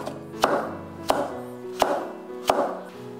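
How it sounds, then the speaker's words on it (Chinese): A knife chops carrot into small dice on a cutting board with four evenly spaced, sharp thuds, close and clear, with no talking. "胡萝卜我们同样改刀给它切粒。"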